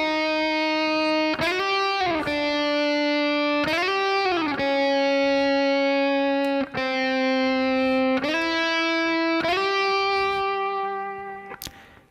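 Distorted electric guitar imitating a slide part from a song, sustained single-string notes gliding up and down between pitches in a slow repeating line, loud and close with no talking.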